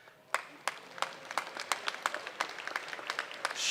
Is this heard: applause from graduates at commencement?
yes